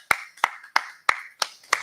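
Someone clapping hands six times at a steady, moderately quick rhythm, each clap sharp, close and distinct with short gaps of quiet between.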